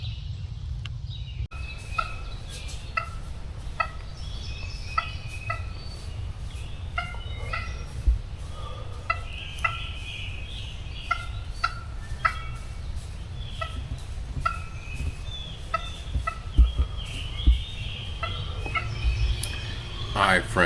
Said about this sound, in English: I had let some calls out and located this gobbler